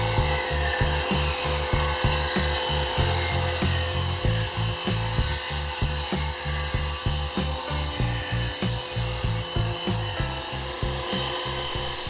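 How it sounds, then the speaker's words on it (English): Hand saw cutting reclaimed pine boards from an old stage riser to size, a steady rhythm of close, rasping strokes repeating evenly throughout with no talk. "The first thing to be done is to cut the boards to size."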